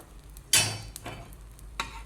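Oil hitting a hot pan under an egg rava dosa makes a sharp, loud sizzle burst, followed by two softer crackling flares over a low, continuous fry.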